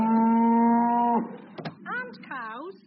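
A cow gives one long, loud, steady moo close by, then a few shorter wavering bellows and knocks follow, with no talk over it; heavy rain is falling outside.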